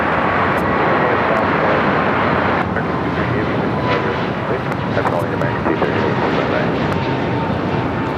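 Airliner taking off at LAX, a steady loud broadband engine roar filling the whole span, with a slight drop in intensity partway through; voices are not clearly present over the noise.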